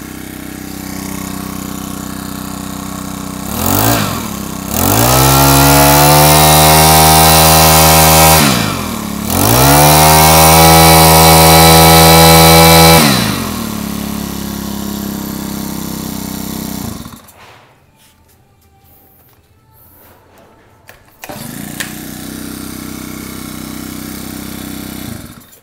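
A petrol brush cutter engine catches, revs hard twice and holds a loud, high two-stroke-style whine, settles to a lower idle and cuts out; after a few seconds of quiet it runs again at a steady idle. No voices.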